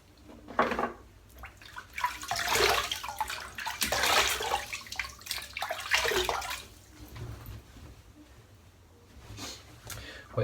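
Tap water runs in bursts as hands splash and wet a face before shaving, with uneven surges of splashing that fade toward the end, and someone talks at times.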